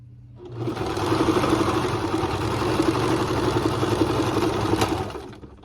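A sewing machine runs steadily through a fabric seam while pieces for a jar gripper are stitched, a continuous close mechanical whir with a soft start and stop and no talking.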